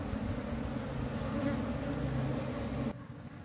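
Honeybees buzz around a hive frame being moved into a new box, a dense, steady droning hum heard close that drops away near the end.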